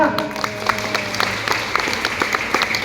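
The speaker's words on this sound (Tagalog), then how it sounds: "Palakpak na!" A school graduation crowd claps steadily for a few seconds. The applause is loud and dense, and a voice on a sound system carries faintly underneath at first.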